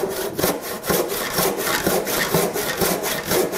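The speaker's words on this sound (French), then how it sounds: "le sillage ne peut être fait qu'à la scie à main, à l'égoïne" Steady back-and-forth rasping of a handsaw cutting through wood for a chair, with regular strokes about twice per second, close and fairly loud, no voices.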